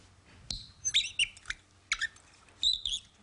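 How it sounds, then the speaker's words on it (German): A nightingale sings in short, bright chirping phrases with gaps between them, fairly close and clear, with no talk over it. "Das ist die Nachtigall."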